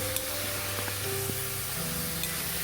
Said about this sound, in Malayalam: ഇതൊന്ന് വാടി വരുമ്പോഴത്തേക്ക് നമുക്ക് ഇതിലേക്ക് കൊഞ്ചും കൂടെ ചേർത്ത് കൊടുത്ത് നന്നായിട്ടൊന്ന് വഴറ്റിയെടുക്കാം